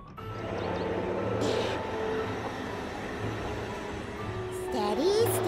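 An animated children's train pulls away and runs along steadily, a continuous low rumble of wheels and motion with a brief squeal or whistle-like tone near the end.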